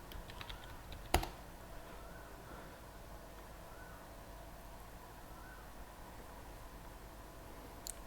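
Quiet, scattered keystrokes on a computer keyboard as a domain admin password is typed, with one sharper click early on and a steady low background hum throughout.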